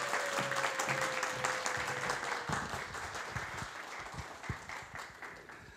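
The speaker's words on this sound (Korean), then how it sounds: "큰 박수로 맞이해 주세요" Loud, sustained applause from a large church audience welcoming a professor for a lecture, dense steady clapping filling the room for several seconds.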